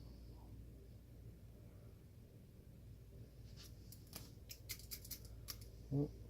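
Wire strippers cut and strip wire for a DIY RC light kit, a few sharp, close snips and clicks late on against quiet background hiss.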